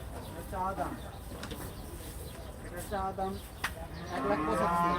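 Cattle mooing at Gabtoli cattle market during Qurbani Eid 2024: several drawn-out moos repeat over a steady crowd murmur, some close and loud, others further off.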